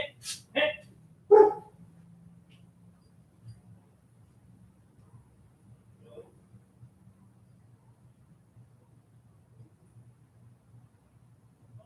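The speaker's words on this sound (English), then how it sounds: "there's my lovely dog barking in the background, very loud." A dog barks loudly in a few sharp bursts near the start, then falls quiet, with a low steady hum and faint scattered sounds continuing underneath.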